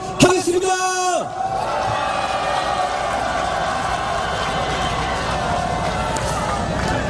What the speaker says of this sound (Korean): 범국민들을 여러분들의 힘찬 박수와 함성으로 시작하도록 하겠습니다